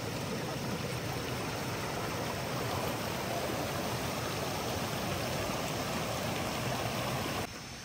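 Steady, loud rush of flowing stream water beside a rocky Gunung Salak trail in the rainy season, a continuous broadband wash that stays even throughout and cuts off just before the end.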